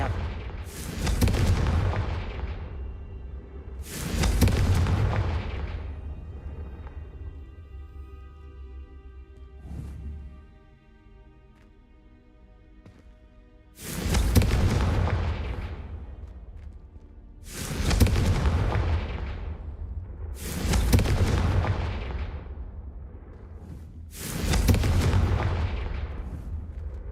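Confringo spell blasts light braziers in a game, one after another. About seven heavy booming bursts come at spaced intervals, one of them noticeably softer, with quieter ringing tones between them.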